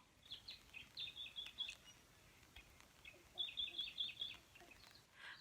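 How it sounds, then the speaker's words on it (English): Small birds chirp by a river in two quick clusters of high, twittering calls over a faint wash of flowing water and ambient outdoor noise. "amongst all the bird calls, all of the croaking frogs, you might be able to hear the raindrops on the umbrella"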